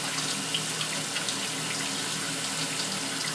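A heavy flow of water pouring onto a fine-mesh LeafFilter gutter guard, a continuous close hiss and splatter like a running tap, steady throughout with no talk.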